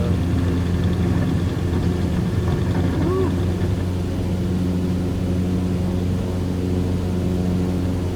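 A Grob Tutor T.1 propeller aircraft engine drones steadily at high power during takeoff in the MSFS2020 flight simulator, a constant loud hum with a faint voice talking briefly over it.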